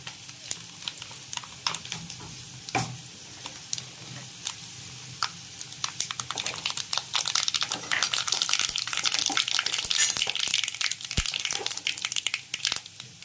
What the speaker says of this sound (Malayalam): ഇനി അതിലേക്ക് കടുകിടുന്നു.